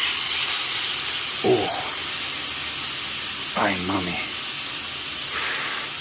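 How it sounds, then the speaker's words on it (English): Loud, steady sizzling hiss of flank steak frying in a hot pan fills the whole clip, with a person briefly exclaiming twice over it. "Let's hear that sizzle."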